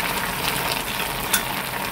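Steady, close bubbling sizzle of Spanish mackerel and radish braising down in soy sauce over medium heat, with a faint scrape as the pot contents are nudged, no voices.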